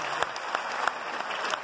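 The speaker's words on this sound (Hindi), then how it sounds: "जोरदार तालियां" A crowd at a Mumbai leadership training event breaks into continuous applause, with a few sharper individual claps standing out above the steady wash of hands.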